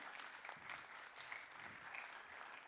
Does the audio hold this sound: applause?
yes